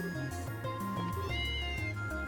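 A cat gives a short meow as an in-game sound effect in Trails in the Sky SC, set over steady background game music with no talking.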